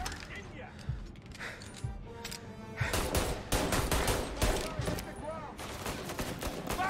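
Gunfire in the video game Mafia: Definitive Edition, a dense spray of sharp shots crackling across the docks, growing louder and busier midway, with a voice speaking over the shooting.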